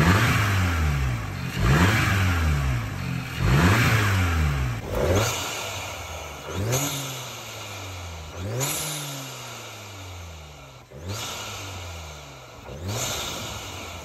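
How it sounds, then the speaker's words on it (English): Audi S3 with an aftermarket intake revving repeatedly, a series of rising engine sweeps with intake whoosh, about seven close blips spaced every second or two. "I'm gonna insert some clips of how the intake sounds."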